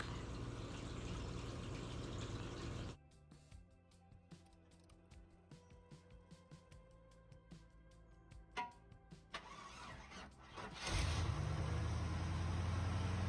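A 1993 Cadillac that will not start: after a steady idle-like hum, a starter cranks in irregular clicks and churning pulses for several seconds without catching, then a louder steady rush returns.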